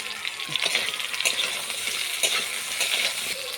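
Whole tomatoes and onion go into a hot pan with potatoes and vegetable stalks, sizzling steadily while a utensil scrapes and stirs in irregular clanks and rattles, close and moderately loud.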